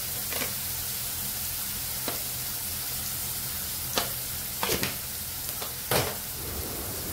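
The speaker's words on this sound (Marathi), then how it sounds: "कांदा चांगला तेलावरती परतून घ्यायचं" Onion sautéing in oil with a pinch of salt gives a steady, moderate sizzle that runs throughout, broken by a few sharp spatula scrapes and clicks against the pan, with no talking.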